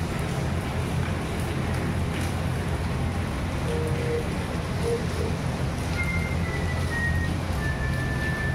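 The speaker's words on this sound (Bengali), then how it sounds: "দেখো বাইরের অবস্থাটা কী হারে বৃষ্টি হয়েই যাচ্ছে, বৃষ্টি বন্ধের কোনো সিন নেই" Heavy rain pours steadily outdoors, a dense unbroken hiss that stays loud and even for the whole stretch.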